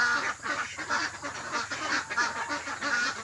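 Several ducks quack and honk in a busy, overlapping chorus nearby, continuous and fairly loud with no talking.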